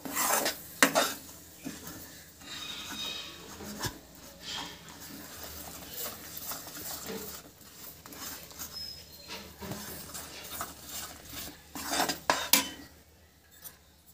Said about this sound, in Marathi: कुठल्याही प्रकारचे घट्ट नसला पाहिजे, पूर्ण मेल्ट झाला पाहिजे, फिरवत राहायचं